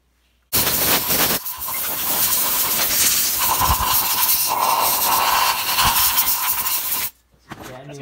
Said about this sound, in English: So I got my air compressor right here. Open it up and blow off some of those metal shavings